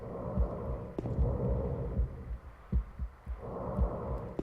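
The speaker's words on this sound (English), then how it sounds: "I hear a heartbeat and breathing." In Silent Hill 2, a dull, close heartbeat thuds in steady paired beats over a murky ambient rumble, with soft breathing textures in the background.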